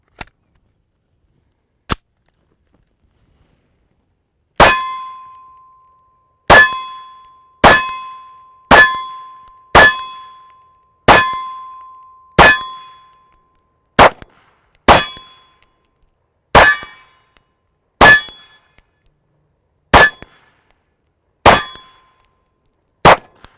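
Bullets strike a steel shooting target at close range, each hit a loud, sharp metallic clang with a ringing tail, repeated about fifteen times at an uneven pace with no talking.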